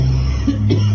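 An old man gives a short, close cough, one brief harsh burst over a steady low background hum, with no speech.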